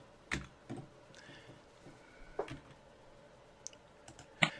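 An email address typed on a computer keyboard, heard as a handful of sparse, separate key clicks spaced out over quiet room tone.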